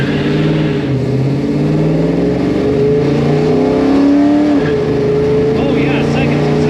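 A Chevrolet Chevelle running a Holley carburetor accelerates hard in first gear, its V8 engine note climbing steeply and loudly up close before a brief dip, with voices heard over the roar.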